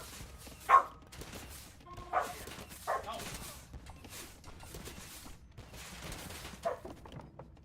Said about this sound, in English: Why is the corgi barking?